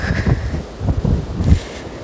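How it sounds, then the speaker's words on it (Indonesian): Strong wind gusting through a snowstorm in Denmark, roaring and buffeting in low rumbling surges with no voices. "Anginnya teman-teman. Bisa-bisa kita terbang."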